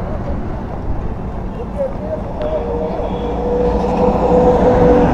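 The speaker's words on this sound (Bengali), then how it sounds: "ট্রেন জিটি রোডে ট্রেন চলছে" A train runs along tracks beside a busy road, a steady low rumble that swells toward the end, heard from a moving vehicle under road noise, with faint voices in the background.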